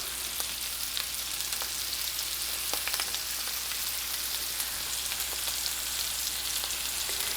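Celery frying in a pan with oil, a steady dense sizzle with scattered pops and crackles throughout, close and fairly loud, no talking.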